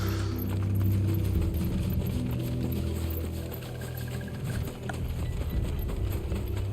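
Horse hooves clip-clop in a rapid, continuous patter over a low rumbling background in the video game Final Fantasy XVI, steady and fairly loud throughout.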